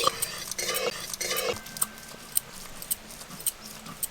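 Sugar goes into hot oil and is stirred for a chicken kosha curry, with metal utensils clinking and scraping against the pan and quiet sizzling under sharp, scattered taps.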